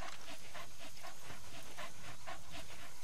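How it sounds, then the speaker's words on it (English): Rhythmic, breathy panting from a dog in Metal Gear Solid V: The Phantom Pain, steady quick pulses close up and alone. "Good. Good dog."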